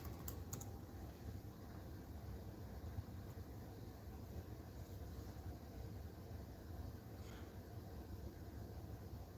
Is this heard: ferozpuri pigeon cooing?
no